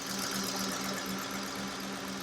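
A car engine idling steadily after a valve cover gasket replacement, giving an even running hum with a light rapid ticking texture and no misfire or talk.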